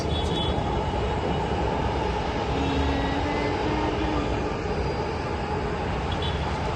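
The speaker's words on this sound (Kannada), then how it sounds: "ಮೆಟ್ರೋ ಹೋಗ್ತಾ ಇದೆ ನೋಡಿ ಗೈಸ್" A metro train heading toward Electronic City rumbles past with a steady, even roar that holds at a similar level from start to finish.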